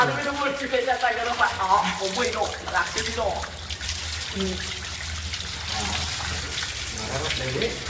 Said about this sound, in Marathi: गरम पाणी